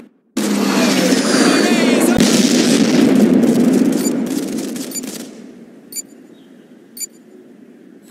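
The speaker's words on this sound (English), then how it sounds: "Airstrike incoming." Airstrike in the Modern Combat 5 shooter game: a sustained, loud roar of explosions and dense gunfire rumbles for about five seconds, then fades into a quiet tail with a couple of isolated sharp shots.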